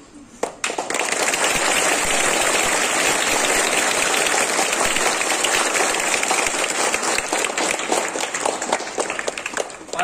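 A crowd applauds loudly after a girl's self-defence demonstration. After a brief quiet moment the clapping starts suddenly and holds as steady, dense applause, close and full, for the rest of the time.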